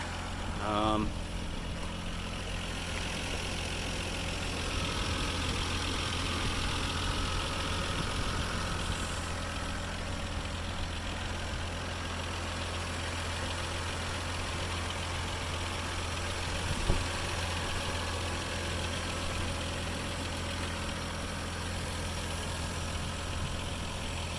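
A 1996 Toyota Land Cruiser FZJ80, triple locked, idles with a low, steady, quiet engine hum that runs throughout without change, with one brief knock partway through.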